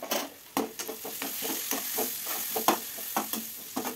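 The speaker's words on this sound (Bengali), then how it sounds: "পেঁয়াজটা ভালোই ভাজা হয়ে গেছে, দেখো খুব সুন্দর লাল" Onions with chili powder sizzle and fry in a pan at a soft level, with repeated scraping stirs of a utensil against the pan setting an uneven rhythm.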